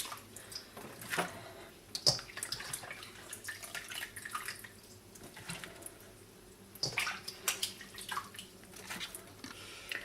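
Salted cabbage for kimchi is rinsed under running water in a bowl, with soft splashing, drips and wet squishing in irregular bursts, fairly quiet and close with no talking.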